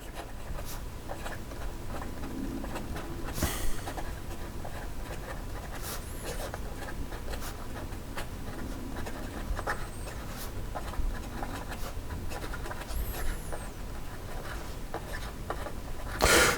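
The steel nib of a Lamy Dialog 3 fountain pen scratches and rubs across paper in a steady run of soft strokes, close and quiet, broken by a few sharper ticks, with no voice.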